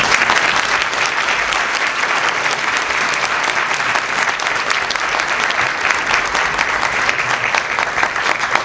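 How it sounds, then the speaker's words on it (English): An audience at a community relations council award ceremony applauds in a sustained, dense burst of clapping that stays steady and loud throughout, with no voices. "Please join me in round of applause"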